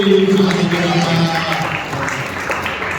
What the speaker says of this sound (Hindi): सारे अपने हाथ उठा के ताली मारते धन्यवाद।